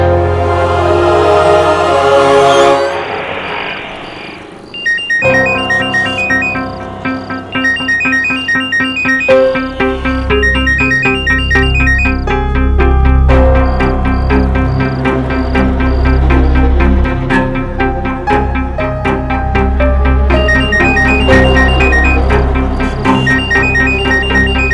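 A phone rings unanswered in a dramatic indoor scene, with a repeated electronic ringtone melody over a loud, sustained musical score, and no talking.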